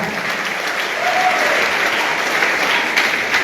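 A training audience in Kupang claps with loud, sustained applause that fills the room evenly for a few seconds, with no clear voices above it.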